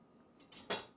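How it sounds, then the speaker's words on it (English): A knife cuts corn kernels off the cob into a bowl, one brief, soft scraping slice ending in a sharper crisp cut, faint and close. "you just cut the kernels off"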